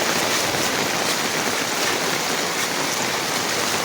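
Floodwater rushes steadily over a raised road beside flooded paddy fields in Umra, Gujarat, a dense continuous roar of flowing water close to the microphone, with no voices.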